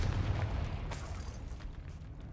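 A Confringo fire spell blasts in Hogwarts Legacy, a dense low rumble with a sharp burst of crackle near the middle, loud and close, fading into a sustained roaring tail.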